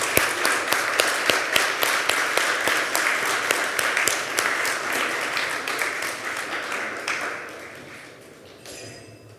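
An audience at a youth entrepreneurship competition applauds the student presenters, crisp individual claps rising out of a steady wash that gradually fades over nine seconds.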